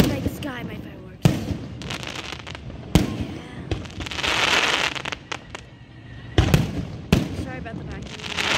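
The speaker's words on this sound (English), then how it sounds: "Light up the night sky, my fireworks." Fireworks burst in the night sky in Arizona, sharp loud bangs at irregular intervals with crackling fizz between them, heard from fairly close with some talk underneath.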